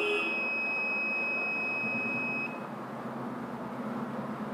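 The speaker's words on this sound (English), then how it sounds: "So again the buzzer sound, if comes," A buzzer on an Arduino and ESP8266 board driving a P10 LED display gives a steady high electronic beep for about two and a half seconds, then cuts off, leaving a low background hum.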